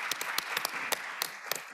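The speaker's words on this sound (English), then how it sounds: "Let's give our escorts a round of applause." Scattered applause from a small audience at a women's forum evening event, a few sharp distinct claps over a soft steady patter, fairly close.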